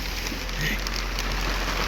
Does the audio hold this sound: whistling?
no